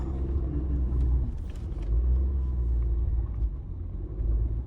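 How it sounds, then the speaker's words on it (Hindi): A Suzuki Jimny climbing to a mountain top, its engine giving a steady, close low rumble with no talk over it. "आ गई जिमनी भाई साहब बिल्कुल ऑन द टॉप ऑफ पहाड़।"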